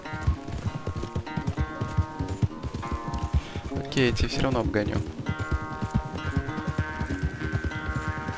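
Horse galloping at a steady rapid clip-clop during a race in the Western video game Red Dead Redemption 2, close and continuous under the voices of people talking throughout, with a music score playing along.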